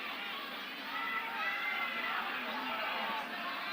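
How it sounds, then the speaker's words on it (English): Stadium crowd roaring in steady uproar during a rugby league match at Lang Park, Brisbane, in 1982, a dense, continuous wash of cheering and shouting that swells slightly midway and never lets up. "The crowd in a constant uproar here at Lang Park"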